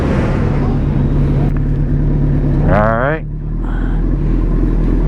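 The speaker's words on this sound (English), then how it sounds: "The bikes are started up." A group of motorcycles idles together after starting up before an evening group ride, a steady loud low rumble that stays close throughout, while someone speaks briefly over the engines.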